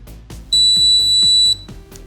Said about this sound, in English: then it should turn the piezo buzzer on